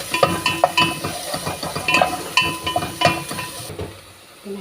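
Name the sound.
stirring onions frying in a pan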